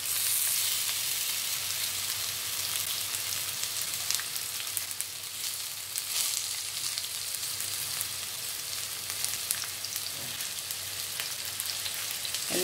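Satay skewers of meat fry in a hot pan, giving a steady, close, even sizzle that holds throughout without speech.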